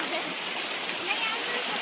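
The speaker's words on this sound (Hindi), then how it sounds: "और काफ़ी ठंडा पानी गधेरे का" Cold water of a mountain stream flows in a steady, hissing rush, close and continuous without a break.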